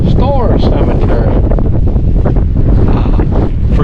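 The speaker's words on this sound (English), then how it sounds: "it is very cold and windy today" Strong, cold wind buffets the microphone in a constant loud roar in a cemetery, with a voice partly audible underneath.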